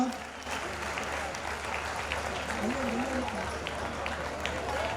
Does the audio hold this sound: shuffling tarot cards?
no